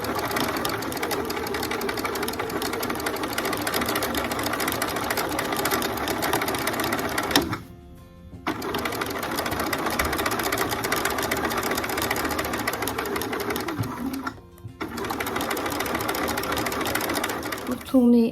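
Sewing machine stitching a Peter Pan collar: a loud, close, continuous mechanical whir with two brief stops where the needle stays down and the fabric is turned before stitching resumes.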